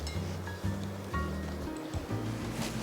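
Blanched bok choy being lifted out of its cooking water and drained, giving a close, wet sloshing and splashing that rises and falls in a few uneven surges.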